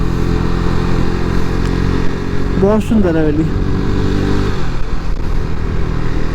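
A KTM RC 390 motorcycle cruises steadily in fifth gear through a valley at night, its engine a constant close drone beneath someone talking.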